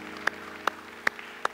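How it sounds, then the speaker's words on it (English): Hand clapping in praise during a church service: four sharp, evenly spaced claps ring out over a low background hum, with no talking. "Let's give the Lord a hand clap of praise."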